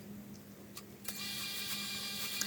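Sewing machine stitching the fly front seam of women's slacks, a steady close motor whir with a quick tick or two as it gets going, fairly quiet and without talk.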